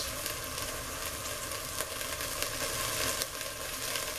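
Onions sizzle in a hot pan with a little leftover oil, for sour cream chicken enchiladas; a steady, dense frying crackle runs close and even throughout, with no talk.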